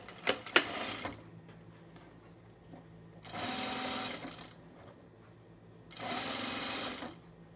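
A sewing machine stitches the underarm seam of a boho tunic in two short runs of rapid whirring, each about a second long and separated by quiet pauses, after a few sharp clicks at the start.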